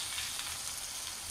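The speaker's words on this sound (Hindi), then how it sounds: "ये अपने इसी तरह से सारे पकोड़े डालते जाएंगे, जितने कढ़ाई में आ सकते हैं" Dal vada pakoras frying in hot oil in a kadhai, a dense, steady, close crackling sizzle that stays continuous throughout with no voices.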